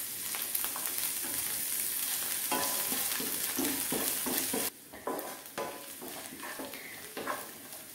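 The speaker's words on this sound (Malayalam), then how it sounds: "ഇനി ഇതിലേക്ക് ചേർക്കാൻ പോകുന്നത് ചെറിയ ഉള്ളിയാണ്." Halved small onions (shallots) frying in oil for a Goan prawn curry, sizzling with spatula stirring scrapes; the sizzle drops suddenly midway, leaving intermittent stirring and softer frying.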